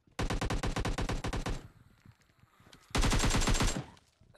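Automatic weapon fire in a zombie shooting video game: two fast rhythmic bursts of shots, the first over a second long, a quieter gap with scattered rattles, then a second loud burst, moderately close.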